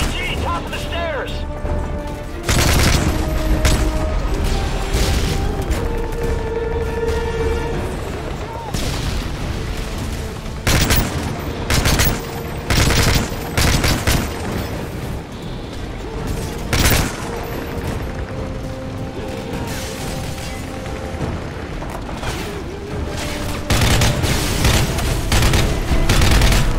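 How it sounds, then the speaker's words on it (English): Gunfire in the video game Call of Duty Modern Warfare 3: dense, loud bursts of automatic weapons and heavy booms throughout a chaotic firefight, with shouted voices mixed in. "Frost, Prince, lay down cover fire!"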